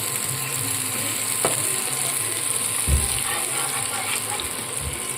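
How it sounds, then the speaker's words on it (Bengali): Chopped tomatoes frying on an induction cooktop give a steady, close sizzle with a faint hiss throughout, punctuated by a couple of soft knocks from stirring. "আমি এর মধ্যে আমি টমেটো অ্যাড করে দিলাম, যেগুলো আমি কুচিয়ে রেখেছিলাম।"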